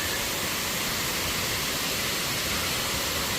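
Klong Lan Waterfall in a tunnel-like rock setting roars with a dense, continuous rush of falling water, loud and steady throughout, with no voices.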